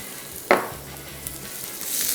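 Ginger garlic paste fries in a few spoonfuls of oil in a pan, a soft continuous sizzle broken by one sharp clink near the start and a low hum underneath.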